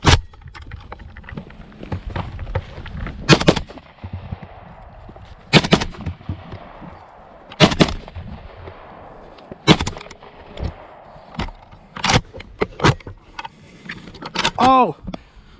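AK-47 rifle fire at a shooting competition: sharp, loud single shots spaced every couple of seconds, about eight or nine reports with echoing tails, plus quieter clicks and handling noise between them.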